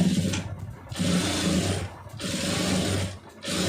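Sewing machine stitching a round neck on a garment, running in two bursts of rapid close whirring separated by short pauses, with no voices during the stitching.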